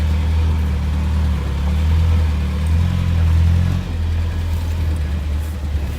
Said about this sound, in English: If you leave it in gear and pull out that throttle a little bit, this thing will just pretty much putt anywhere